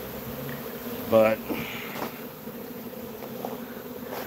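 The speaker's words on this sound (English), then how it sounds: "I just wanted to share watching the bees kind of march in" Honeybees from a hived swarm colony that lost its queen crowd back into the hive entrance. A steady, close insect buzz runs throughout, with a brief spoken word near the start.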